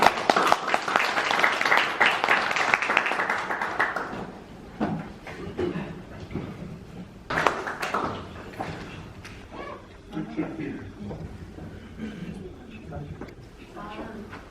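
Audience applause at a blockchain meetup in Seoul welcoming a speaker to the stage, a loud dense burst of clapping for about four seconds that fades into scattered claps and murmuring voices.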